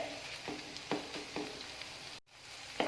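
Capsicum filling sautés in a pan for a khubus pizza snack, producing a soft steady sizzle broken by a few rhythmic stirring scrapes and a brief pause near the end, with no speech.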